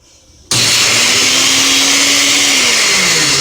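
A blender chopping peppers for Puerto Rican sofrito switches on abruptly with a loud, steady whirring roar, its motor pitch dipping slightly as the load shifts.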